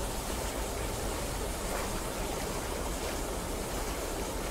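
Steady broadband rush of flowing water, like a stream or small waterfall, in The Vanishing of Ethan Carter, continuous and even throughout with no voices.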